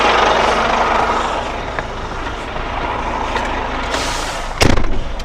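A new Renault truck with a hitched semi-trailer pulls away, its diesel engine a loud, steady rumble close by, ending with a short sharp hiss like an air release.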